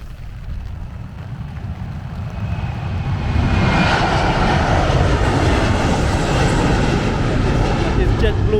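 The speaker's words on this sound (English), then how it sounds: "Oh, see another plane taking off there." A JetBlue airliner takes off from an airport strip in Montego Bay, its engine roar swelling into a loud, steady broadband rush heard from outside in the rain.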